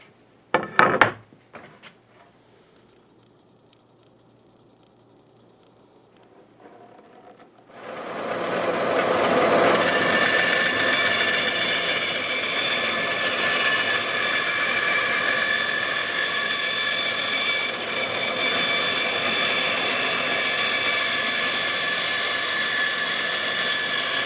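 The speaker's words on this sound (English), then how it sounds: "Now we'll just sand back to the line." A rotary sander with a disc pad grinds steadily against a wooden base for a Pfaff 260 sewing machine, a loud continuous whine starting after a few seconds of quiet handling clatter and running on alone.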